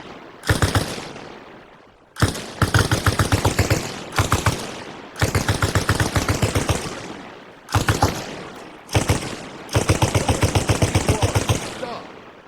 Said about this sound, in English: Have your boy lay down suppressive fire.